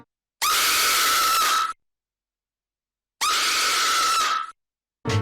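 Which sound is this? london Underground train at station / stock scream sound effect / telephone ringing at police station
stock scream sound effect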